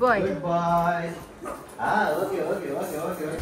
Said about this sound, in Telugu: మా క్రీమ్ కూడా చూసారా, తెల్ల కుక్క బ్రౌన్ కుక్క అయిపోయింది.